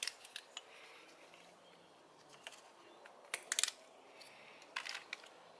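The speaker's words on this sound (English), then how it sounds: "So I'm just going to snip back this cover on the wiring and trim off this plug" Wire cutters snip through the plastic wiring cover and plug leads of a new alternator on a Toyota Land Cruiser HZJ80, giving several faint, sharp clicks spread across a quiet workshop background.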